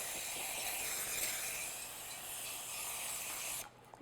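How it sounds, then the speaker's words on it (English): Non-stick cooking spray hisses steadily into a loaf pan for about three and a half seconds, close and fairly loud, then cuts off abruptly. "Now I'm going to just spray my pan"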